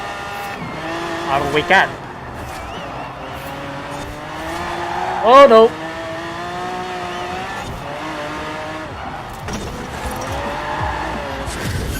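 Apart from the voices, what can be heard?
Chevelle Super Sport car racing, video game Forza Horizon 4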